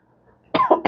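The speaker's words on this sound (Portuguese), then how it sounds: "desculpem a tosse." A single adult cough bursts out close and loud, a quick double hack after a near-silent pause, during a Portuguese-language interview with a psychologist.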